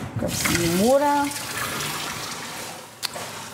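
Water runs from a kitchen tap in a steady, rushing stream that continues throughout, with a brief voiced sound near the start and a small knock toward the end.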